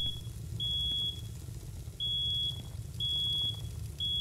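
In a firefighting and hazmat response game, a piercing high electronic alarm sounds in repeated half-second beeps, about one per second, over a low rumbling background of fire and machinery.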